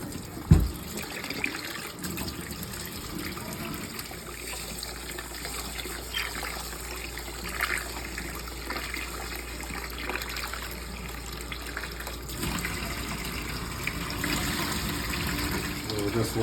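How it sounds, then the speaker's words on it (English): Rice rinsed in a bowl under a running kitchen tap, a steady trickle and splash of water lasting throughout with small swirling and pouring changes. "I just wash my rice until the water is clear."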